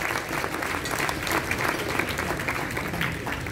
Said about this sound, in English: give a good applause for them for the dedication.